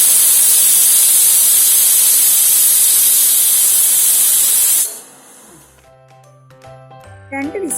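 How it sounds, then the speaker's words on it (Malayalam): A pressure cooker on a medium flame gives a loud, steady hiss of escaping steam for about five seconds; it then cuts off, leaving quiet kitchen clinks and a faint voice. "രണ്ട് വിസിൽ വന്നിട്ടുണ്ട്."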